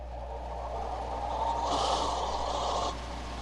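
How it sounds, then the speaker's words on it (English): A steady mechanical whir of a serger stitching fabric, running continuously with a brief louder, higher burst in the middle. "let's just go ahead and serge this"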